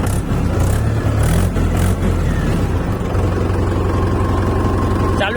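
A New Holland tractor's diesel engine runs steadily at idle close by, a loud low rumble that holds evenly from start to finish.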